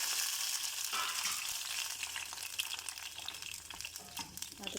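Garlic and onion fry in oil in a kadai for sambar, a close, crackling sizzle with stirring clinks and brief watery hiss, no talk.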